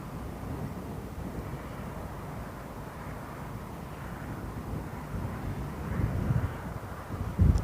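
An Air Algérie Boeing 737 arriving at London Heathrow gives a faint, distant, steady jet rumble against wind noise, swelling slightly toward the end.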